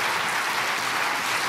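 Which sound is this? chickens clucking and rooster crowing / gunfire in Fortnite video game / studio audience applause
studio audience applause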